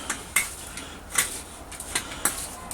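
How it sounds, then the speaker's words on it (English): A knife shaves down a stick for making corn dogs. It gives a series of short, crisp scraping strokes at an uneven rhythm, close and fairly quiet, with no speech. "stick sharpening"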